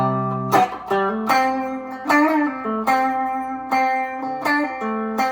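A short electric guitar lick in C, a run of bright single notes and slides played alone, close and clear, ending on a held note.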